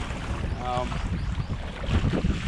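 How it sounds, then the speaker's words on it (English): Steady wind roars across Kentucky Lake during a kayak fishing tournament, a continuous low buffeting rush against the microphone with a brief tonal whine partway through. "The way this wind is blowing, we're going back to that wall"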